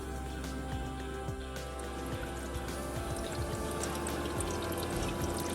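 An Insignia portable ice maker runs with a steady mechanical hum while water drips and trickles inside; several small clattering knocks suggest ice being dropped into its basket, fairly close and moderately loud.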